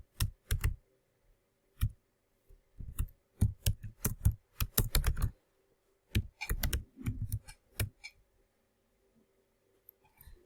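Keys clatter on a computer keyboard as an organization name is typed, in quick bursts of clicks separated by short pauses, close and fairly quiet in a still room.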